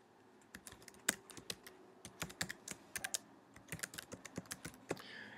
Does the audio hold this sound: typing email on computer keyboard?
yes